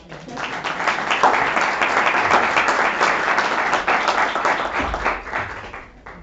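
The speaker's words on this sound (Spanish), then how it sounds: "Bueno, un aplauso." An audience at a presentation in a hall breaks into applause, a full, steady rush of many hands clapping that swells quickly, stays loud and even for several seconds, then thins and fades out.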